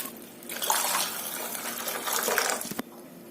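Water is poured into a tomato rasam mixture in a village kitchen, a steady splashing gush lasting a couple of seconds, close and clear, then stopping abruptly with no talk.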